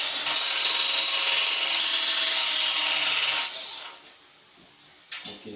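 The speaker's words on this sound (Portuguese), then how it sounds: "para pegar a tua parafusadeira, tá? E vai apertar até onde der medida da parede." A cordless drill-driver whirs steadily and loudly as it tightens a screw into a wall while a window scaffold is assembled, then cuts off abruptly, followed by a brief faint clack.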